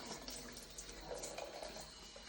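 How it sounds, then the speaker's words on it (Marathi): Water runs steadily into a Thums Up soft-drink bottle as it is filled, a faint, continuous trickling wash with no talk. "आता थंडाने पाणी भरून ठेवते"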